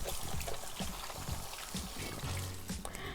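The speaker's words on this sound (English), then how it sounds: "let's wash our hands." Tap water runs and splashes over hands at a kitchen sink before making soft pretzel bites, a steady close trickle and pour with no talking.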